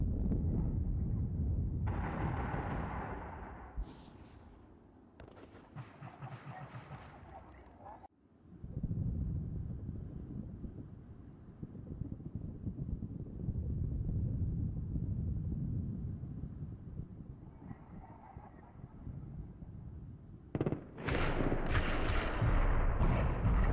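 Distant booming explosions and rumbling blasts from Halo 2 roll in irregular bursts over a steady low background rumble.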